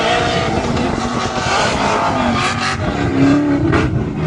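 A powerful drift car at the Sopot drift show in the Balkan Mountains, Bulgaria, revs hard and continuously, its loud engine note rising and falling with tire noise, under an announcer's voice.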